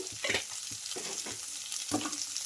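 Sliced onions frying in a pan with salt are stirred, giving a soft sizzle with brief scraping strokes repeating every half second or so, quiet and close.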